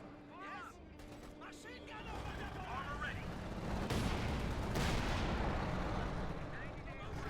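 Bazooka and tank fire rumble through a Company of Heroes 2 battle with Panzer IV tanks, heavy booming blasts and explosions building over a constant low battlefield din, with commentary talking over it.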